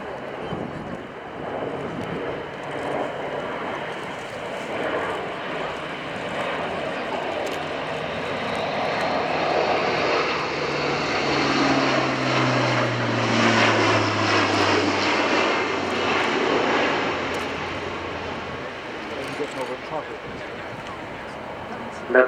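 A Royal Air Force Atlas transport aircraft flies past at the RIAT 2016 airshow at Fairford, its propeller engines a broad, steady drone that swells toward the middle and slowly fades, with a commentator's voice over the loudspeakers.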